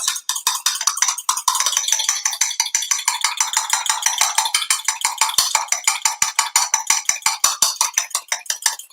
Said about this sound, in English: those eggs are whisking